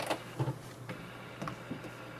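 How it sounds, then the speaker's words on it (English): An HP Envy 6030 printer printing, with a few soft mechanical clunks and brief whirring bursts at low volume over a faint steady hum. "and it will start to print"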